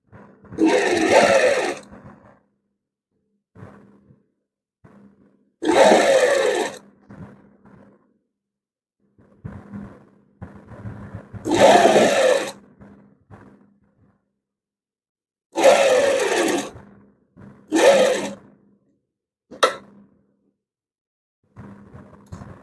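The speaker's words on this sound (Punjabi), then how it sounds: "ਪਹਿਲਾਂ ਕੱਚੀ ਸਲਾਈ ਲਾ ਕੇ ਫਿਰ ਆਪਾਂ ਇਧਰ ਪੱਕੀ ਸਲਾਈ ਲਾ ਕੇ" A sewing machine runs stitching a V neckline on a garment in loud bursts of a second or two, separated by silent pauses, with a faint whir at times between the runs.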